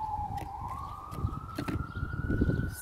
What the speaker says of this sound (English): Oh, you hear the sirens?